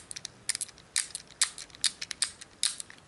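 Small gears on a fidget cube clicking and ticking in quick, uneven bursts as they spin, close up and crisp, with brief pauses between runs of clicks.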